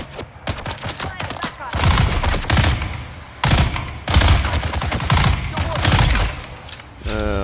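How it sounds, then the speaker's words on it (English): Assault rifle gunfire in the video game Dune: Awakening rattles in long, loud sustained bursts broken by brief pauses. The rapid shots run close and dense throughout. "And I've gotten out of practice with the assault rifle."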